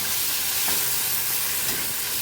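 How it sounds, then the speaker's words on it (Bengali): Prawns and pointed gourd seeds fry in hot oil with salt and turmeric, producing a loud, steady, close sizzle with faint stirring movements throughout. "পটলের যে বীজগুলো সেগুলো আমি ভেজে নিচ্ছি, আর চিংড়ি মাছটাও নুন হলুদ দিয়ে ভেজে নিচ্ছি"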